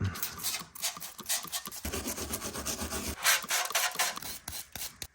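Cleaning a part of a 67-year-old Wells band saw: repeated rubbing and rasping strokes of a brush or abrasive against metal, close and uneven in rhythm, with no talking.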